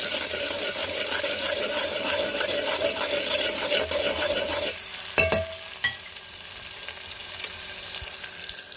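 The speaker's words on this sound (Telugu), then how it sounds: "ఆనియన్స్ వేసి ఫ్రై చేసేస్తాను" Onions fry in curry oil in a pan with a steady, close sizzle that drops off midway, followed by a few sharp utensil clinks and a quieter hiss.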